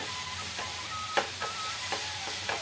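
Coconut and sesame laddu mixture stirred in a hot pan on the stove, a steady sizzle under a few scraping strokes of the spoon, close and fairly loud.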